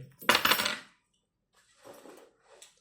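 A house key ring jingles in two bursts, a loud metallic clatter followed after a pause by a softer rattle, close by with no talking.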